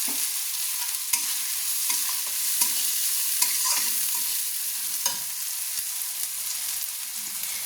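Cumin paste and garlic paste being stirred through hot oil in a pan for a chicken curry, a continuous sizzle punctuated by repeated scrapes and clicks of the spoon against the pan.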